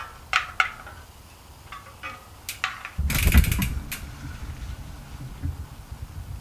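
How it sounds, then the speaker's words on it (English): Spoke wrench turning the spokes of a bicycle wheel half a turn each to snug them, on a YT Capra mountain bike during a tune-up. Light mechanical clicks and ticks in bursts, with a louder rattling stretch in the middle. "I just wanna give each spoke like half a turn just to make everything snug."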